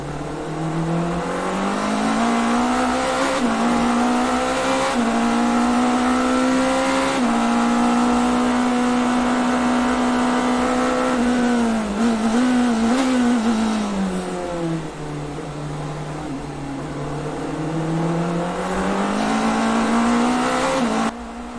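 Race cars at the 2023 Rolex 24 at Daytona, a Porsche chasing an Acura: a loud, sustained engine roar with rising and falling revs, close and continuous, gear changes audible, no talk.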